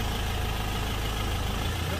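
A 2013 Ford Ranger XLS 2.2 diesel pickup idles steadily near its exhaust pipe, a low, even rumble holding constant throughout with no talk over it.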